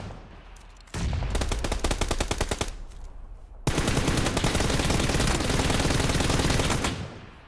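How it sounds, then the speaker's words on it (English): Automatic gunfire rattles in PUBG on Xbox One X, a short rapid burst followed by a brief pause, then a longer, louder sustained stream of shots, close and dominant with no talk. "He stopped to take shots at me."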